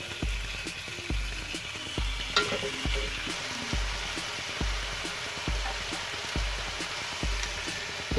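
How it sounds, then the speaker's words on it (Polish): Chicken breasts fry in a pan in fat left over from cooking onions, giving a continuous crackling sizzle with a faint regular ticking running through it. "na tym tłuszczu, co pozostał po tej cebuli, na tym będziemy smażali piersi"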